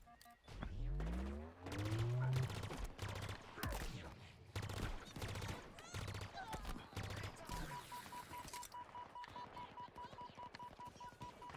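Gunfire in the Halo Infinite campaign: a loud opening burst, then continuous rapid automatic fire with heavy booms and explosions, someone talking over parts of it and a steady electronic tone near the end.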